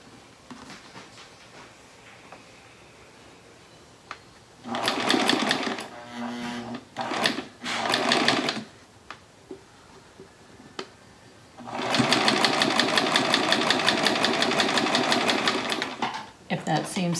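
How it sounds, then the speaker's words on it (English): Sewing machine stitching quilt pieces for a cross quilt, two loud bursts of steady rapid stitching with a short gap, then a longer sustained run; the quieter stretches between carry low background noise. "sew down that line"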